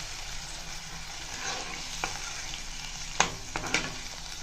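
Steady bubbling hiss of salted water on the boil in a pot for upma kozhukattai, with a few sharp clinks and scrapes of a utensil against the pot near the end.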